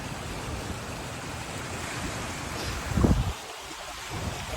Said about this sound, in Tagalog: Gala-gala lang kami sa tabing dagat.